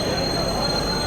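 A Prashanti Express passenger train pulls into platform 1 at Vijayawada Junction, with a loud, steady rumble of wheels on rails and a thin high squeal running through it.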